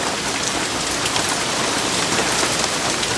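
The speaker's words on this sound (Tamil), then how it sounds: "இந்த மழை வேற எப்போ விடுன்னு தெரியலையே" Steady heavy rain pours down, a dense continuous hiss of drops on surfaces with no pauses, loud and close.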